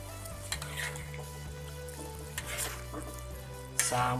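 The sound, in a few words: stirring Indonesian tilapia semur stew in a pot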